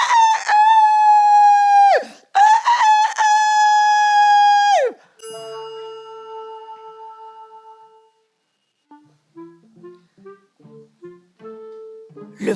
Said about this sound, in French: le coq, alerté, lança son cri du haut de la poutre